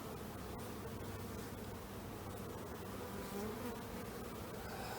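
A dense, steady drone of many honey bees fills the air throughout a close-up hive inspection in April, with no break in the loud buzzing.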